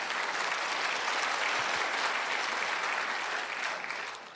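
Sustained applause from a church congregation during a Tagalog sermon, many hands clapping in a dense, even wash that holds steady and begins to taper at the end.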